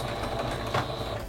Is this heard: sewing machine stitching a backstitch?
yes